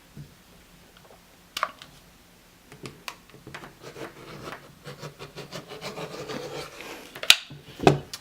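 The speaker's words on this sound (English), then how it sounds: "I'm just going to go ahead and take my rotary cutter" A rotary cutter slices through fabric for a spring table runner, giving a series of soft rubbing, scraping strokes on a cutting mat that grow busier and louder, ending with a couple of sharp knocks, with no talking.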